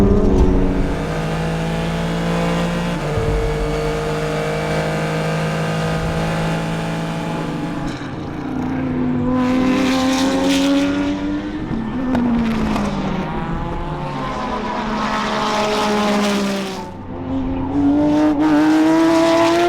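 A field of race cars, including an Acura DPi prototype, pulls away at a green-flag race start at Daytona, several engines droning and climbing in pitch together, loud and sustained, with revs rising and dropping as cars shift and pass.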